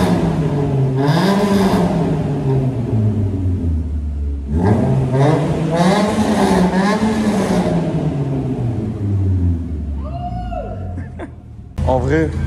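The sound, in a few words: Renault Clio RS engine with Cobra exhaust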